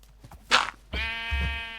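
A blocky Minecraft sheep gives two short, nasal bleats in quick succession, clear and close against a quiet game background.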